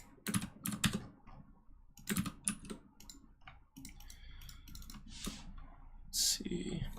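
A computer keyboard clatters in quick irregular bursts of key clicks, fairly close and faint, with pauses between runs of typing.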